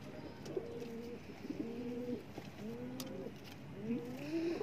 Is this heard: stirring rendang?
no